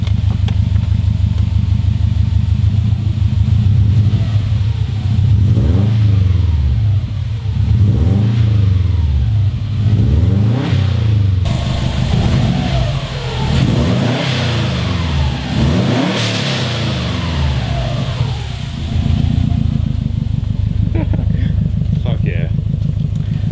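A Subaru STI engine with a new exhaust revs repeatedly, rising and falling in pitch over a loud, deep exhaust drone, close by; voices are faintly heard underneath.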